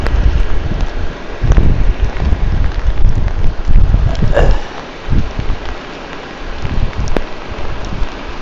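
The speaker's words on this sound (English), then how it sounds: "Raining pretty good." Rain falls steadily outdoors on a person wearing a military-style poncho in Flectarn camo, a continuous broadband patter with wind and a few louder drops striking close to the microphone, and no talking.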